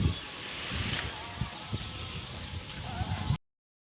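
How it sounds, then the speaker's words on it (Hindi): A strong, cool wind blows across a village rooftop, rumbling and buffeting hard against the microphone in uneven gusts before cutting off abruptly. "बहुत तेज़ हवा चल रही है और ठंडी ठंडी हवा भी है।"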